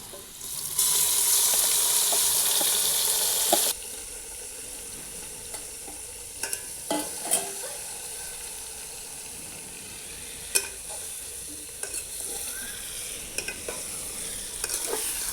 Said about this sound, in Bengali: মটনটা এভাবে কষে নেব ভালো করে।